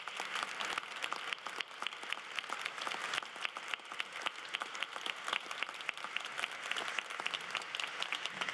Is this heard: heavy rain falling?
no